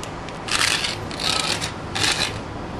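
A utility knife scores red barn matting in three short scraping passes, each a close, gritty rasp lasting about half a second with brief pauses between, and no talk.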